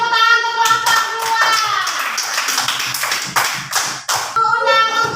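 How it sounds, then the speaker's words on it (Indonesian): Pupils in a classroom clap for a group of classmates, a series of brisk, close hand claps in uneven bursts, with children's voices and singing around them. "berikan tepuk tangan untuk kelompok"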